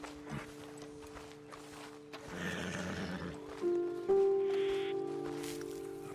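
Horses in Red Dead Redemption 2, with clip-clopping hooves, a whinny and snorting over faint background tones and game music, moderately close and with no talk.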